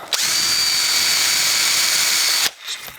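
Power drill boring holes through the sole of an Edea figure skate for mounting an Ice Fly blade: one loud, continuous high whine lasting about two seconds, then cutting off abruptly.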